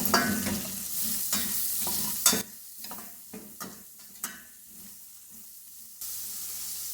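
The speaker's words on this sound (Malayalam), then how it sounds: "നമുക്ക് ഈ സെയിം പാനിലേക്ക് തന്നെ ഫ്രൈ ചെയ്തെടുക്കാനുള്ള സവോള ചേർത്ത് കൊടുക്കാം" Sliced onions fry in chicken-flavoured oil in a pan for butter chicken, giving a steady close sizzle broken by several sharp scraping stirs, then a quieter hiss toward the end.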